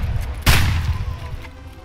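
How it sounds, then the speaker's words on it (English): A single loud gunshot in the video game Escape From Tarkov, a sharp close crack followed by a decaying rumbling tail, with no other talk over it. "You fired two shots there?"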